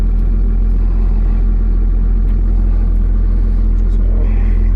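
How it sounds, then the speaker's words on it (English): A Timbco feller buncher's engine drones with a deep low rumble as its cutting disc is switched on and it idles up, holding fairly even throughout with only slight shifts in pitch. "So, disc on. Hear it idling up, disc off, it'll just come down."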